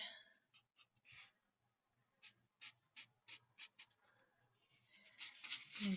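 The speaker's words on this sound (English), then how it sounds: "now we can go ahead and get the shading in with the 20 CG" A Conda art marker shades on paper in a series of short, soft, scratchy strokes, very quiet and close, with brief pauses and a denser run of strokes at the end.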